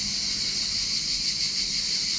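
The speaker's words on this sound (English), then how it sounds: "I think the crickets are louder at the back" Crickets chirp steadily in trees near the mountains in Cyprus, a dense, continuous high buzzing drone that holds at an even level throughout with no pauses and no voices.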